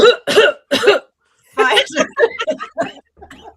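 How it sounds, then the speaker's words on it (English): A few harsh coughs right up front, then a person speaks after a pause, with a faint cough or throat sound near the end. "I'm having a coughing fit"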